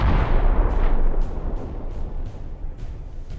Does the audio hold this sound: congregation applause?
no